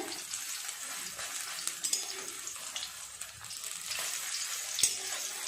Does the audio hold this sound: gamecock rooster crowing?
no